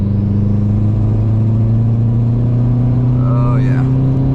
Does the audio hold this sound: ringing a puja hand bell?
no